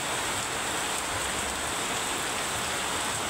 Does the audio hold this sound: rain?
yes